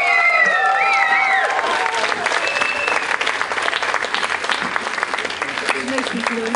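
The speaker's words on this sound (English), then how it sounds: "Big round of applause" Crowd applause and some cheering at the Exeter Pride live stage, a steady loud clapping wash with shouts and whistles early on and a voice over the top.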